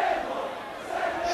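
Football stadium crowd roaring and shouting in protest after a foul, a brief, dense wash of many voices at steady loudness.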